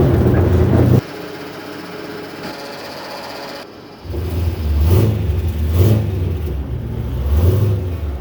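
An old Land Rover engine revs while driving, a loud mid-pitched drone that drops off for a few seconds, then surges back up in repeated rising pulses of acceleration close by.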